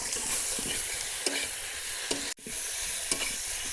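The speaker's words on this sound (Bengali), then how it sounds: "আলুটা দিয়ে 2 মিনিট মতো নাড়াচাড়া দিয়ে জল দিয়ে দেবো।" Potatoes are stir-fried in a spice masala, with a steady close sizzle and regular scraping strokes of a spatula against the pan, and one brief break.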